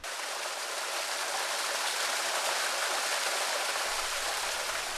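A mountain stream flows through a summer forest on Jirisan. Its rushing water makes a steady, full hiss that carries on without break.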